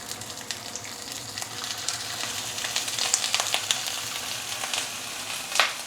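Small fish marinated with fine salt pan frying in hot oil, a steady close sizzle with crackling pops and spits throughout.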